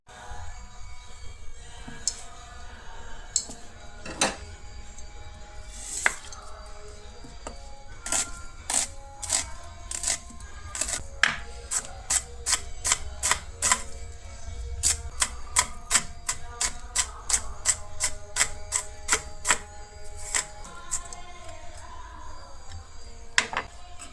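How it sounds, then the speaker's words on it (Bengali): A knife chops an onion on a cutting board in a rapid run of sharp, evenly spaced taps, with slower scattered cuts before and after, close and crisp over quiet kitchen background. "প্রথমে পেঁয়াজটা কাটবো।"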